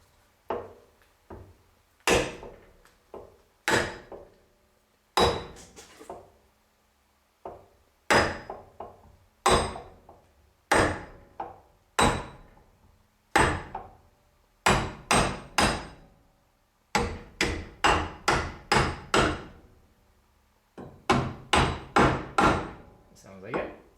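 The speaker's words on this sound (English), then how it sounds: "let's see if we can just tap this into place" Hammer tapping a brass strip into a rear differential: sharp metallic knocks, close and loud, in bursts of several quick strikes separated by short pauses, repeated throughout.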